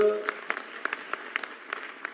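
Scattered claps from an audience at a state-level youth festival at NIMS University, a loose run of separate hand claps over a murmuring room rather than full sustained applause.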